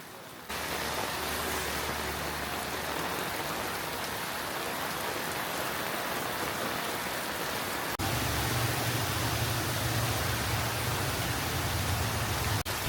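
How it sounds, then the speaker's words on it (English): Heavy rain pours steadily on a street in Vietnam, a dense, loud, unbroken hiss with a low rumble that grows heavier partway through, with no voices. "The rain got heavier and heavier."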